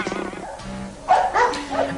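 A large dog in a Turkish-dubbed Heathcliff cartoon gives a gruff bark that rises sharply midway, following a moment of background voices.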